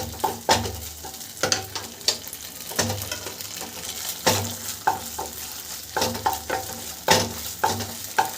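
Tender coconut paste scraped and stirred in a kadai for dab chicken, with repeated clattering spoon strokes and a soft sizzle underneath, close and steady with no voices.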